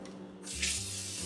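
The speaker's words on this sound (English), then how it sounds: "now I'm just gonna fill it up, not all the way up, but some up with cold water" Cold tap water gushing into a kitchen sink, starting abruptly after a brief quiet moment and then running as a steady, close hiss and splash, with no talk.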